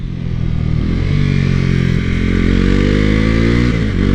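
A Bajaj-built motorcycle under 400cc roars loud and close as the rider climbs through the gears, the quick shifter cutting the ignition for brief dips between rising engine pulls.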